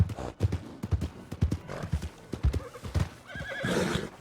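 A horse in the Red Dead Redemption video game trots with steady, evenly spaced hoof clip-clops, then gives a whinny near the end, close and clear with no talk over it.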